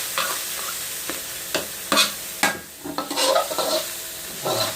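Garlic and wild boar pork being stir-fried for a Thai herbal stir-fry, with steady close sizzling under repeated scraping and stirring strokes of a utensil in the pan.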